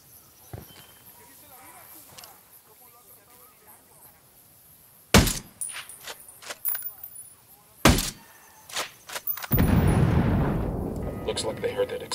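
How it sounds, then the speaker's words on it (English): Several sharp, loud bangs from an explosion in Tom Clancy's Ghost Recon Wildlands break through quiet game ambience, followed by a sustained roaring rumble like a blast with debris settling. "Looks like they heard that explosion."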